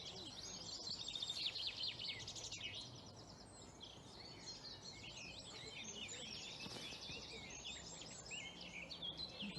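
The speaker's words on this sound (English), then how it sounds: "I think that's a willow warbler." Willow warbler singing in an April dawn chorus, thin high twittering phrases woven among other birdsong over a steady outdoor background hiss, fairly faint and distant throughout.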